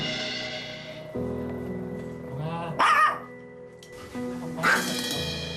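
Mong, a dog living with a family caring for someone with ALS, barks aggressively: a few sharp, loud barks burst out over a steady background of sustained musical tones, with whining yips in between.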